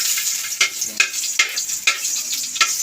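Garlic sizzles in hot oil in a pan, a bright steady hiss with rhythmic swells roughly every half second as it is stirred, loud and close with no talking.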